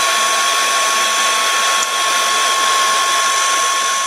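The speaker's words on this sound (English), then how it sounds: "we are going to have to give that area a bit of a blast dry" A hand-held dryer blasts air onto a wall area, a steady loud high-pitched whine with a constant airy roar and a faint tonal hum, running without a break.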